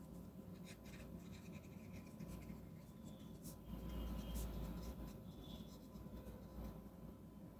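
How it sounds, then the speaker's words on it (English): An Oliver Karma ebonite fountain pen in a pale green pattern writes on paper with green ink, giving faint, close scratching strokes over a low background rumble. "Yeah, the writing is so smooth and good"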